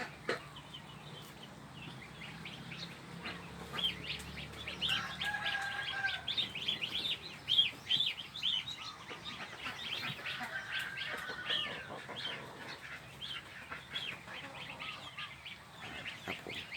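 A white-tailed bantam rooster crows in the morning amid a busy chorus of other poultry and birds chirping and calling nearby, the crows rising over a constant outdoor background.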